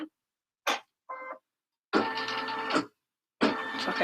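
A machine embroidery unit stitches a line on a Beatrice Bunny project, sounding as several separate mechanical bursts: two short ones, then two longer buzzing runs with pauses between them, close and with no voices.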